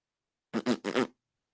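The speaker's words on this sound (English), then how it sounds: "Shaitan, he cannot listen to this, so he start farting." A fart sounds in a few quick, rasping bursts lasting about half a second, loud and close against silence.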